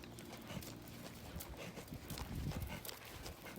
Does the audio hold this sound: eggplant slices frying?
no